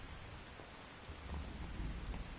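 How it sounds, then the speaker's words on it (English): Rain and thunder in the video game Metal Gear Solid 3, a steady hiss of rainfall with low rolling rumbles of distant thunder building toward the end. "You can entertain me until the rain stops."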